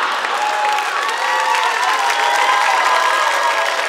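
A comedy special crowd in Queensland breaks into sustained applause mixed with cheering and whoops, a dense, even roar of clapping that holds for several seconds without talk.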